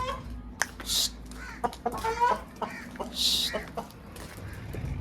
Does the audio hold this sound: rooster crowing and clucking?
yes